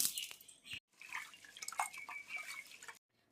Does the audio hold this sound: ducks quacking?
no